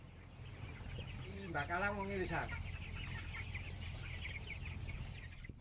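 Live broiler chickens at a poultry farm give a short burst of clucking about midway, set against a steady hum and faint background noise.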